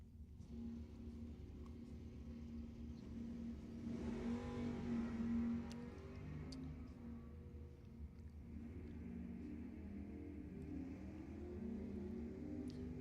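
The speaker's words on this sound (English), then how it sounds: "Rich Wendler in the green Mustang getting a little bit of a head start over Joe Girardi in the Camaro." Drag racing cars, a green Mustang and a Camaro, accelerate down Lebanon Valley Dragway, with a distant engine roar swelling and rising in pitch, then holding as a steady faraway rumble with crowd ambience.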